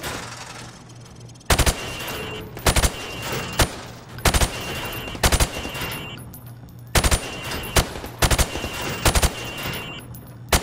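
Rifle shots ring out at pop-up targets on a training range in Call of Duty Modern Warfare Remastered, loud and close, fired in quick clusters of two or three with short pauses between bursts.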